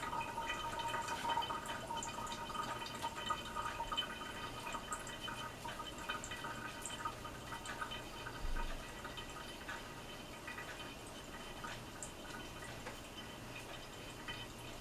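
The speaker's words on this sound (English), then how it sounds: "Because I haven't used it in a very long time and it's a bit dusty, so I'm just gonna wash it right now." A dusty cheese grater is rinsed under a running kitchen tap, giving a faint, steady hiss of flowing water with light splashing and dripping and no talk.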